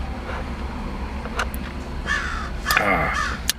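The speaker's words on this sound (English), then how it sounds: "a crow decided to land nearby and caw, and is creating some unwanted background noise in my video" A crow caws nearby outdoors, several harsh calls in short bursts spread across the stretch over a steady low background hum, with no talk over it.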